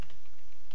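Keys clatter on a computer keyboard in a brief, soft burst of typing, close and steady.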